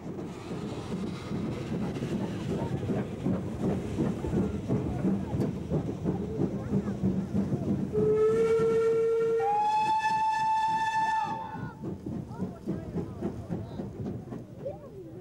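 An ex-Southern Region steam locomotive, a double-chimneyed variant with a large tender, chuffs along in a fast rhythmic beat on the East Lancashire Railway, then sounds a long, loud, bright whistle, while someone narrates over it.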